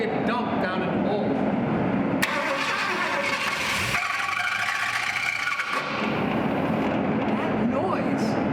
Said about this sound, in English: we're sure that noise is just the starter